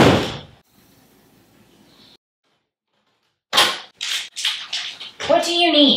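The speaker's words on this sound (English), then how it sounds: "Please shut the door." A bathroom door is pushed shut with one quick thud at the start, followed by a near-silent pause and then someone talking nearby.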